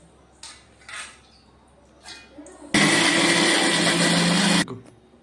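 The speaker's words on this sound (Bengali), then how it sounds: "এখন সবগুলো একসাথে পেস্ট করে নেব।" A blender roars loudly for about two seconds, grinding soaked poppy seeds into a paste, after a few quieter clinks and rustles of preparation.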